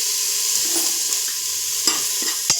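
Something roasting in a pan with turmeric just added, a soft continuous sizzle with light stirring and a couple of sharp spoon taps against the pan near the end.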